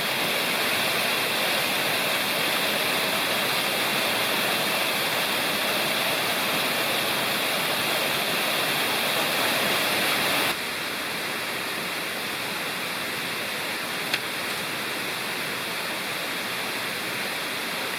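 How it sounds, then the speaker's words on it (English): Steady, full roar of a waterfall in Cherokee National Forest, a dense continuous rush of falling water heard close and alone, dropping slightly in level partway through. "some video of more waterfalls"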